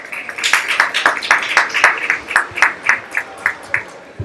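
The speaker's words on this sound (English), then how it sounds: "so I think you deserve another round of applause" Audience applause and clapping at a nightclub anniversary event in London, a steady burst of many hands clapping with bright rhythmic peaks throughout, fairly close and loud, no talking over it.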